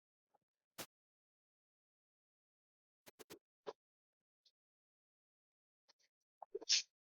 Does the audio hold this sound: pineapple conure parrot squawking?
no